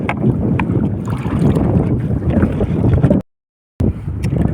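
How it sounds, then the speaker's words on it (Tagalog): Strong wind buffets the microphone in heavy, continuous gusts, with water and boat noise beneath; a brief dropout of silence interrupts it near the end. "talagang mahangin"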